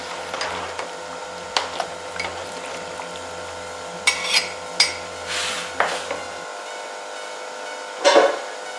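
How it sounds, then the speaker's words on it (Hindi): Rice being stirred in a pot while making Hyderabadi biryani: a series of irregular scraping clinks and knocks of a utensil against the metal pot, close and fairly loud, with the last one strongest, and no talk. "चावलों को जो है मिक्स करते हैं।"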